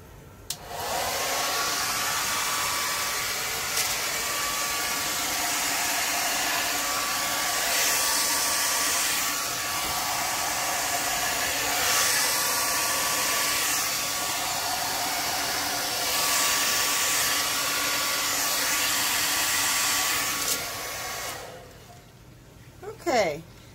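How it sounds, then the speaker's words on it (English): A hair dryer blows steadily at close range for about twenty seconds during acrylic paint pouring, a loud continuous whoosh, then clicks off near the end, with faint voices underneath. "So I think that's all I'm going to use the hair dryer for."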